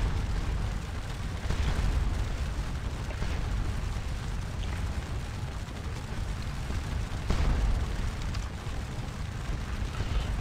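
Artillery fire from a Napoleonic battle at Ligny in the Scourge of War Waterloo strategy game: a continuous heavy rumble with distant booms swelling through it, and sharper blasts near the start and later on. No one speaks.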